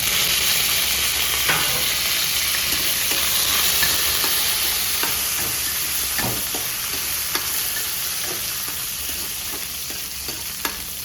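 Mustard seeds, cumin and curry leaves frying in hot oil, a dense steady sizzle dotted with frequent small pops and crackles, close and uninterrupted by speech.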